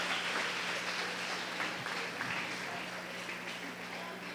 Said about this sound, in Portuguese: Dá um aplauso aos artistas aqui.